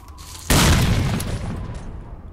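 A grenade detonates in the STALKER: Lost Alpha video game, a single sudden loud boom after brief quiet, followed by a long rumbling decay.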